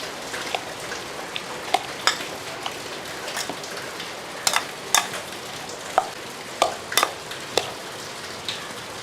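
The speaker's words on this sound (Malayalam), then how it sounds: "അപ്പോൾ ഇതെല്ലാം കൂടെ നല്ലപോലെ ഒന്ന് മിക്സ് ചെയ്ത് വെക്കും." Green mango pickle being stirred by hand with salt, asafoetida and fenugreek powder in a Kerala kitchen, producing soft scraping and irregular clicking taps against the bowl, close and quiet with no voices.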